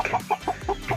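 A five-month-old young chicken clucks in short repeated bursts, about five soft clucks close to the microphone, while being weighed on a scale.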